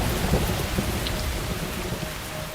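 Thunderstorm with heavy rain, a dense continuous hiss of rainfall over deep rumbling thunder, loud and steady throughout with no voices.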